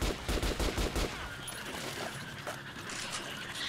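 Rapid bursts of gunfire from a weapon in the video game Metro: Last Light, a quick volley of loud shots up front that gives way to a busier, lower wash of game noise.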